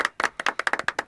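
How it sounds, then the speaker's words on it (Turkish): A small group claps at a New Year's gathering at home: a dozen or so sharp, uneven hand claps over about a second, close and fairly loud, with no talk. "Alkış."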